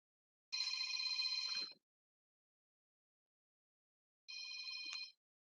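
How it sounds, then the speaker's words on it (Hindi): A telephone rings in two bursts, a bright trilling ring lasting about a second, a gap of silence, then a second shorter ring, fairly faint and alone. "किसी का फोन आया, जान दो।"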